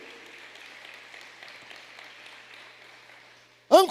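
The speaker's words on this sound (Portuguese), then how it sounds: "Você pode aplaudir o Senhor?" A church congregation at an evening service applauding, soft diffuse clapping that fades out, followed by a brief loud voice at the end.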